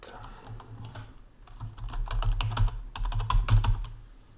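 Quick bursts of keystrokes on a computer keyboard as a single word is typed, close and clicky, with a low murmur underneath.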